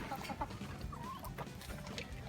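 Backyard chickens, including Ameraucana blue egg layers, Buff Orpington and Speckled Sussex hens, cluck softly in a coop alongside a rooster, faint murmuring calls over a low background hum.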